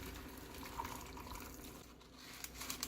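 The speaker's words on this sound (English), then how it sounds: "now I'm just going to be pouring my brine over the cucumbers" Brine is poured steadily over thinly sliced cucumbers and onion in a jar for pickles. The liquid makes a soft, continuous splashing and trickling, faint and close, with no talking.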